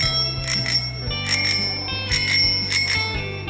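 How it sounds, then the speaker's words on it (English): A bicycle bell rings in four quick, bright bursts, spaced about a second apart, over steady background music. "Yeah, I heard that bell."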